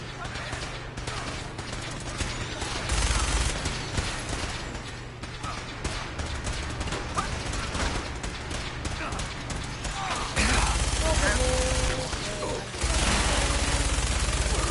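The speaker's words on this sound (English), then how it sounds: "Hostiles. Being terminated. Taking fire!" Video game gunfire in Fallout 4: loud, dense bursts of rapid shots and crackling fire over a rumbling game soundscape, with heavier volleys in stretches and voices speaking amid the combat.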